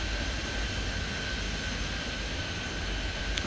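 Airliner taking off from a parallel runway in Airport Madness 3D, a steady, loud broadband jet engine roar with a faint whine, unbroken and without speech.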